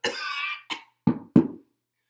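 A person coughs several times in a row, a longer harsh hack followed by three short, sharp coughs, close and alone with no talking.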